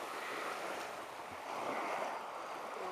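Waves wash steadily onto a narrow beach at Hovolo on Skopelos, a soft continuous surf with gentle swells and some wind noise, heard alone at low level.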